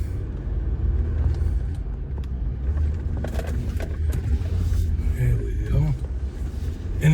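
A four-wheel-drive vehicle fitted with SumoSprings climbs a hill, its engine a steady low rumble with bumps and rattles from the cabin, recorded from inside.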